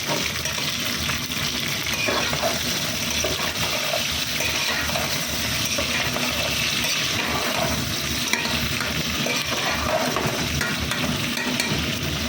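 Chicken kebab, coated in ginger-garlic paste, fries slowly in a pan with onion, tomato and capsicum, giving a steady, fairly loud, unbroken sizzle throughout with no talk.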